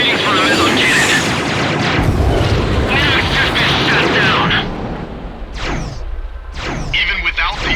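Heavy, booming cannon blasts from a Meson cannon in the Ace Combat X video game, rolling continuously under dense explosions and jet noise, with voices speaking over the din toward the end.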